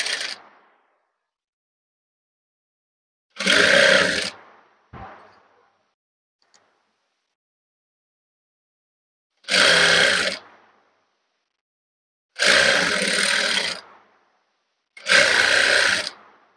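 A sewing machine stitches readymade piping onto a blouse in close, loud bursts: a short run, a brief blip, then three longer runs separated by silent pauses, with no talking.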